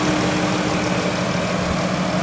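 A 2012 Chrysler Town & Country minivan's 3.6-liter V6 idling with the hood open, giving a steady, even hum and low rumble heard up close with no talking.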